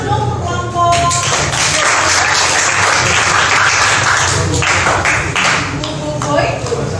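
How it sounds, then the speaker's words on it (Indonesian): Classroom applause for a group of students: a dense, steady round of clapping from many hands continues for several seconds, with voices talking underneath. "tepuk tangan dong untuk kelompok"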